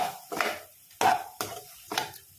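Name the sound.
stirring prawns with curry, cumin, coriander and garam masala powders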